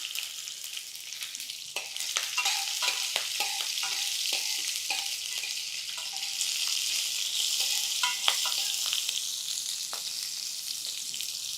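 Sesame seeds and green chillies fry in a pan with a continuous bright sizzle, scattered popping crackles and the clack of stirring, close and unvoiced.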